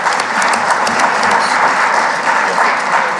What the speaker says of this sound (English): there are yeses and no's, but I think the claps have been more